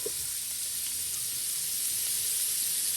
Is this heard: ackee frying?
yes